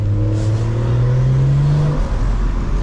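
A turbocharged BMW M240i with an aftermarket turbo elbow revs hard from the driver's seat, its engine note climbing smoothly in one long, loud pull before easing off, with turbo whoosh over the drone.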